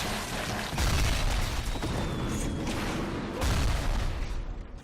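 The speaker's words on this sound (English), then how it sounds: "I only just noticed that grenade at the last second." A grenade explodes in the video game BioShock, a loud booming blast with rumbling debris, followed by a second heavy burst a few seconds later.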